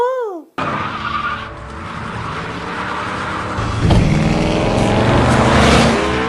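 A car chase in an action film, dense and loud, with engines roaring, tires skidding and squealing, and a sharp crash-like burst near the middle, all layered over a tense film score.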